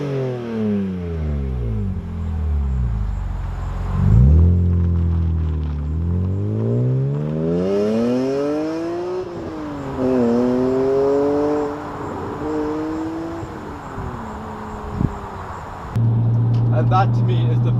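A BMW E46 M3 engine revs up and down repeatedly, its exhaust note rising and falling in long sweeps, loud and close, with someone speaking at times.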